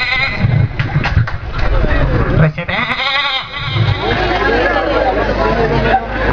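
A male performer mimics a billy goat's bleat with a loud, wavering nasal cry before a college audience, whose chatter and murmur run underneath.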